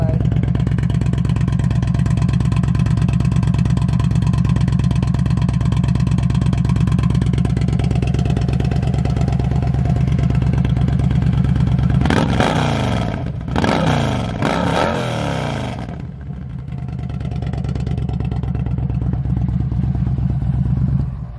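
A 2012 Yamaha Stryker motorcycle engine runs at a steady, loud idle close by, with a burst of sharp revving and clatter partway through before it settles back to a steady idle.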